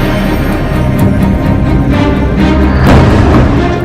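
A loud explosion effect in a news report, a heavy sustained rumbling boom with a surge of energy near the end, no speech over it.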